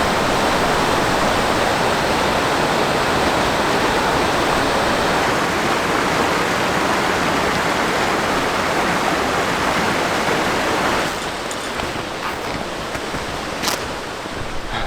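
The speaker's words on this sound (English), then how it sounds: "So this is all fast moving water through here" Fast-moving water rushes through a partly frozen river in the Canadian winter wilderness, a loud, steady, broadband roar that holds constant throughout and softens slightly near the end.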